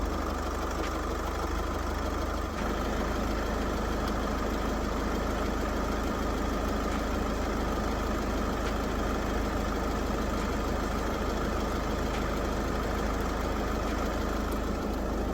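A Skoda Scout's 2-litre TDI diesel engine idles after start-up with a constant loud clattering rumble, close by and uninterrupted, with no one talking.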